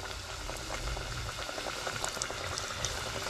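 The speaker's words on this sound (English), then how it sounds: "now we are deep frying" Vegetable spring rolls deep frying in hot oil crackle and bubble in a steady, dense sizzle with small pops, close and continuous.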